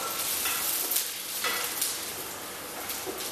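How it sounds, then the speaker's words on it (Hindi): Finely chopped ginger and garlic sizzle and crackle in hot oil in a pan, a loud continuous frying hiss with occasional stirring scrapes, heard close up with no talking. "तेल हमारा गर्म हो गया है, अब सबसे पहले हम इसमें डालेंगे ये बारीक कटा हुआ अदरक"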